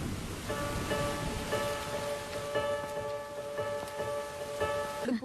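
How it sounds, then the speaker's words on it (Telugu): Heavy rain pours down in Pune as a steady, even hiss, with a sustained tonal hum running beneath the downpour. "పూణేలో పెద్ద వర్షం."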